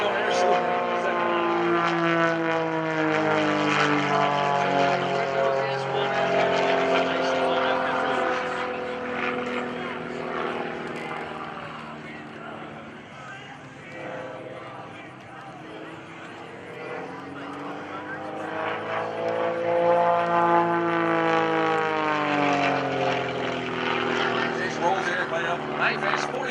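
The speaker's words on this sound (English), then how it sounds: "Snap outside, nose over tail, wingtip over wingtip, then tumble through the sky as Mr. Jason flooded his S1S prop propeller." Pitts S-1S propeller aerobatic plane flying airshow maneuvers, its engine droning steadily and shifting in pitch as it rolls and tumbles, heard from a distance under a continuous announcer's commentary over loudspeakers.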